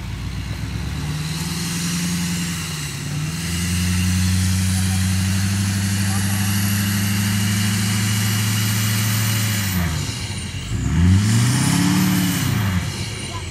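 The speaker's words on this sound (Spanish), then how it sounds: "ahora sí sintió el acelerón" Duramax and Cummins pickup truck engines during a 4x4 test idle with a steady low drone, then rev in rising and falling sweeps near the end, loud and close with no talk.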